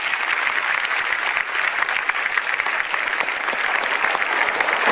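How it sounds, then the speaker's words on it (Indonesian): A studio audience at a motivational talk show breaks into applause, a loud, dense, continuous wash of clapping sustained for about five seconds with no speech. "kita berikan tepuk tangan dulu"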